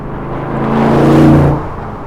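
An Ultima RS sports car engine rises in pitch and loudness as it accelerates hard to overtake, peaking mid-clip, then eases back to a steady drone.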